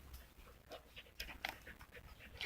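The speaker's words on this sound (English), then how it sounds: "She's come over for a chat and she's panting away." A pet dog, a female, pants quietly in the background in short, steady breaths, soft and fairly close, with nobody talking.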